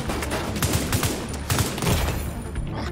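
Gunfire in Tom Clancy's The Division 2 video game rattles in dense, rapid automatic bursts that run almost unbroken through the whole stretch, loud and close with sharp repeated cracks.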